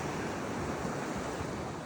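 Sea waves wash steadily at a beach pier in Odesa, a dense, even roar of surf with some wind buffeting the microphone.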